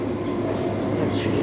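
A British Rail Class 730 electric train rumbles steadily, heard from inside the carriage on the West Coast Main Line near Cheddington, a continuous low mechanical drone with faint rail noise throughout.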